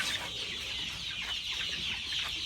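A flock of chickens in a backyard coop clucks continuously on a rainy day, a dense, steady chorus of overlapping clucks close by with no talking.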